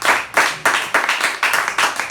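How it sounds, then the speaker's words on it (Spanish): A church congregation claps loudly in repeated bursts, a dense close crowd of hands slapping in a rough rhythmic pattern that swells and dips roughly every half second, with no clear voices over it. "Den un fuerte aplauso al Señor."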